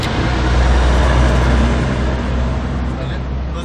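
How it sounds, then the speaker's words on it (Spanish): Road traffic rolls past outside while someone works on the interior door panel of a Volkswagen Jetta, a loud continuous low rumble and hiss of passing cars that swells and eases slightly. "Está un poco de ruido en los carros"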